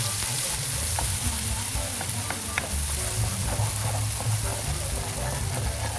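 Raw ground masala for a chicken liver pepper fry sautéing in a pan, a loud, steady sizzle with a dense low rumble and occasional faint stirring clicks throughout.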